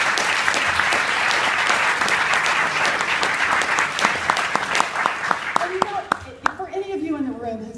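A crowd at a political speech breaks into loud, sustained applause that gradually thins out, with a few individual claps and the start of talking emerging near the end.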